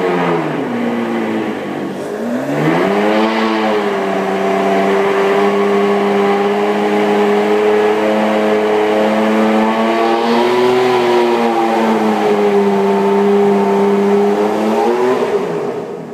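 A Ferrari engine rises sharply from idle into a loud, sustained high-revving wail, holding steady for over ten seconds with slight wavering before easing off, close and alone without speech.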